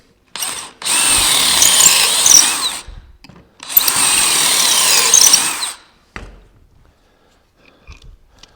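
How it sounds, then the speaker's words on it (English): Two loud bursts of a power drill fitted with a pocket-hole bit boring into wood clamped to a work table, each whining for about two seconds, followed by faint clicks and handling noises. "I've set up my drill with my pocket drill bit."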